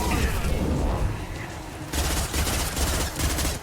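Rapid sustained gunfire rattles through a Mass Effect 2 firefight, dense automatic bursts with booming impacts, briefly thinning before another loud barrage erupts, close and continuous.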